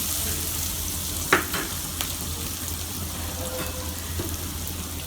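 Mashed cassava goes into browned onions frying in a pan, giving a loud, continuous sizzle with a sharp clatter and a few scrapes as it lands and is stirred.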